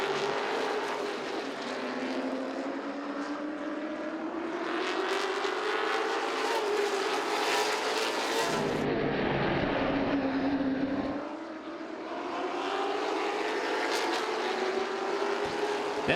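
Late model race cars circle Southside Speedway, a steady, loud engine roar with rising and falling pitch as cars pass, surging into a dense burst midway before settling back to a continuous drone.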